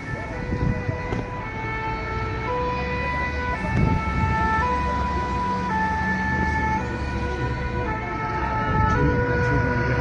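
Sirens from fire trucks and an ambulance rushing to an attack scene in Nice, France, on Bastille Day, with overlapping two-tone wails that are loud and sustained over road rumble.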